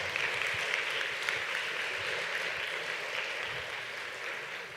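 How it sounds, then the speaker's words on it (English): Applause from the audience at a data journalism keynote, a steady wash of clapping heard from a distance, fairly quiet and slowly fading toward the end. "Let's give another round of applause for pivot tables and Mago Torres."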